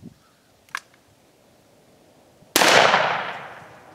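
A single sharp, loud gunshot from a Circuit Judge revolver loaded with Hornady Triple Defense ammunition cracks outdoors and rings out in a long decaying tail, preceded by a few faint small clicks.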